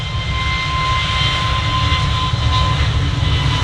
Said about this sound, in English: Touching down now from JFK, Virgin Airbus A350 1000, flight VS 128.